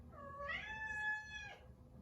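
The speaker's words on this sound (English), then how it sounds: "I guess you're gonna hear my cat." A pet cat lets out one drawn-out, rising-then-falling meow lasting about a second, close and clear over a low room hum, with no talk around it.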